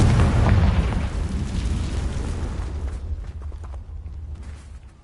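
Confringo fire spell explosion in Hogwarts Legacy, a loud booming blast at the start that rumbles and slowly decays into a fading crackle over several seconds.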